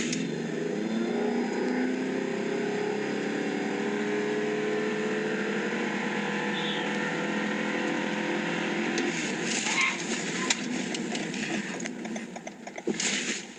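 A 2022 Toyota Crown launches hard from standstill, its engine note rising steadily over several seconds, then turns into rougher rushing road and wind noise with thumps as the car brakes.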